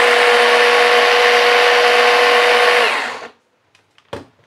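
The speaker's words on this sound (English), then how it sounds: "we have a nice blender garlic ginger paste here" A countertop blender whirs loudly and steadily as it purees garlic and ginger with water into a paste, then cuts off abruptly, leaving near silence broken by a couple of small clicks.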